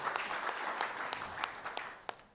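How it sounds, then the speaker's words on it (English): An audience at a church synod applauds in a dense patter of clapping, moderately faint and fading toward the end, with a few sharper individual claps standing out. "Give yourself a clap."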